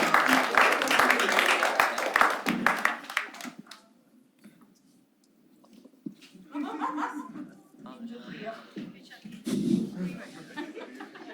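An audience claps for a performer at a comedy show, with dense applause and chuckles at first, then quieter scattered clapping and laughter under people talking.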